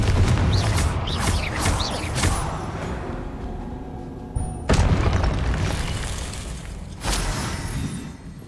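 Confringo blasting spell explosions in Hogwarts Legacy, a series of loud booming blasts with deep rumbling tails, one heavy burst early, then two more sharp detonations later, each decaying into low roar.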